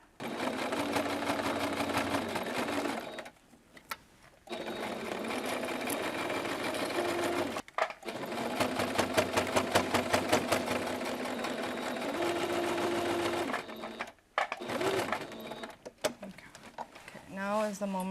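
A sewing machine stitches fabric in sustained motor-driven runs, backing up briefly and then driving forward again, with short pauses between bursts and someone talking over parts of it.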